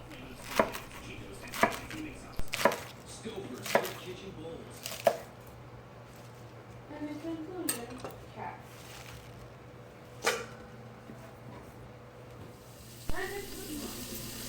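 Rolled collard greens chopped into bite-sized pieces with a knife on a cutting board: a series of crisp, evenly spaced thuds, close and fairly loud, with some kitchen handling noise between cuts.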